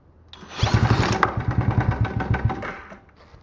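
A tiny quad ATV engine catches and runs for a couple of seconds with a fast, putting small-engine chug up close, then fades out as it dies.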